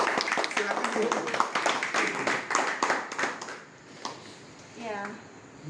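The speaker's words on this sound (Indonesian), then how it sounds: "Kita tepuk tangan dulu dong Bapak Ibu" An audience at an evening gathering gives a brief round of hand clapping in a room, sharp claps layered under people talking and then fading into calmer talk.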